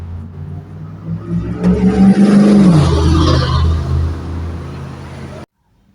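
A car engine revs close by, its tone sweeping upward and then dropping away as it settles into a steady rumble, with a murmur of voices in the background before everything cuts off.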